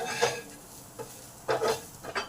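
A spoon scrapes and clinks against a pan in a few short strokes as spices are stirred and fried, close and moderately loud, with light sizzling between the strokes.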